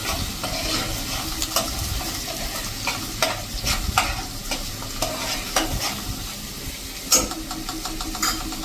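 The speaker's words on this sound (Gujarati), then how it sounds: "આ રીતે તેલમાં તમે કૂક કરશો ને તો સરસ સંતળાઈ જશે" Chopped onion and potato sautéing in hot oil for a Gujarati sabzi, a steady close sizzle broken by frequent scraping stirs of a spoon against the pan.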